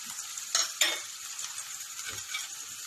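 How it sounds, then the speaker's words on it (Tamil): Onion and garlic drop into heated oil for an aloo paratha potato stuffing, giving a steady hiss of frying broken by two sharp clattering hits close together, with no talking. "ஆயில் நமக்கு ஹீட் ஆகிடுச்சு. இப்போ நம்ம என்ன பண்ண போகிறோம்னா வெங்காயமும் பூண்டும் நம்ம ஆட் பண்ண போகிறோம்."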